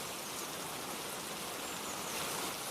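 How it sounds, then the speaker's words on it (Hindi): Heavy rain pours steadily as a dense, even hiss across the whole moment, a constant wash of falling water with no voices over it. "कितनी जोरदार बारिश हो रही है। लग नहीं रहा कि जल्दी रुकेगी।"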